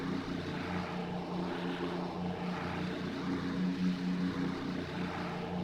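A B-24 Liberator in a flight-sim mod runs its Pratt & Whitney R1830 Twin Wasp radial engines at takeoff power, about 1,200 horsepower each at 2,700 RPM, making a steady, even propeller drone throughout.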